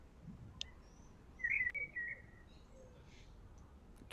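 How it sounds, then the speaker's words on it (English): Wild birds near a pond island give a few short chirps and a brief warbling call, faint and spaced out against quiet outdoor background noise. "there's certainly a few chirping right now"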